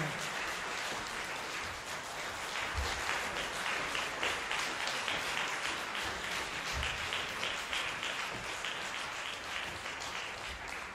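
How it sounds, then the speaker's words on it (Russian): Sustained audience applause at a laureates' concert for the Astana-2013 competition, a dense steady wash of many hands clapping at once, filling the hall without pause. "Ваши аплодисменты этому юному дарованию"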